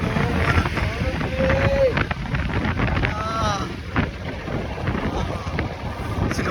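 Wind buffets and rumbles across the microphone in gusty waves, with a few brief tonal whines and some voices mixed in.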